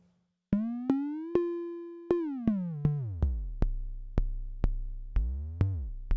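An Arturia DrumBrute Impact drum synth fires a repeating tuned tone, about a dozen sharp hits at an even rhythm, whose pitch glides up, falls deep into kick-drum range, then climbs again. The hits are clean and alone, with no voices.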